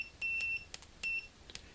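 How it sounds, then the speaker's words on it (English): Multimeter in continuity mode beeping as its probes touch together: a steady electronic tone sounds in two separate stretches, each lasting a fraction of a second, with faint clicks in between and a quiet background. "instantly there's a beeping sound. And that indicates continuity."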